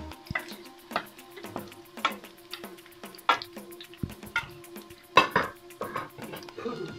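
Boneless chicken being stir-fried in a pan for chicken chowmein, with a soft sizzle and repeated scraping, tapping clinks of a utensil against the pan, fairly close and moderately quiet.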